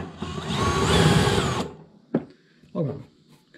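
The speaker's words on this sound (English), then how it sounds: "Watch this burr right there and see exactly what happens whenever we use the larger bit." A larger drill bit cuts through a metal fan shroud for a Cummins engine, a loud whirring grind lasting over a second and a half before stopping, followed by a couple of short knocks and brief talk.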